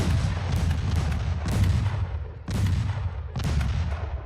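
Naval guns fire during a battle in the game Ultimate Admiral Dreadnoughts, with heavy booms landing roughly every second over a dense, continuous rumble of distant gunfire.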